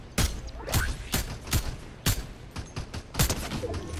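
A rapid exchange of Fortnite gunfire, with about seven loud, sharp shots in irregular succession over a steady layer of game ambience.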